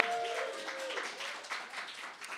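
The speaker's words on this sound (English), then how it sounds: "give them a round of applause" Audience applause at a Brooklyn civic event with the New York Academy of Medicine: a dense burst of clapping from a crowd, loud at first and gradually thinning, with a brief voice at the very start.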